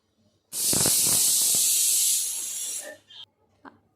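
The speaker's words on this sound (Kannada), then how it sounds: "ಮೂರು ವಿಷಲ್ ಕೂಗಿಸ್ಕೊತಾ ಇದ್ದೀನಿ" A pressure cooker cooking beetroot with a little water lets out a loud, sustained whistle hiss of steam for a couple of seconds, then fades, followed by a few faint clinks.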